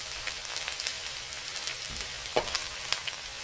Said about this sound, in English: Add 1 teaspoon of chili flakes. Stir for 10 seconds.